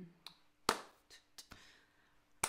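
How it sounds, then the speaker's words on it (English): Sharp, close chest claps as body percussion during a singing lesson, several separate slaps spaced irregularly with quiet gaps between, the loudest hits standing out crisply. "so you can do the chest clap"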